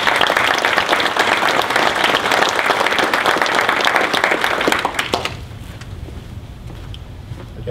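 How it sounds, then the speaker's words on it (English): An audience at a school board meeting claps loudly and steadily for about five seconds before the applause drops off to a quiet room murmur. "So I'd like to give him a warm round of applause for taking that challenge."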